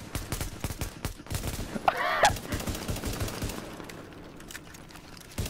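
Gunfire in the video game The Division: rapid bursts of automatic shots and scattered single shots over a chaotic firefight, loud and close throughout.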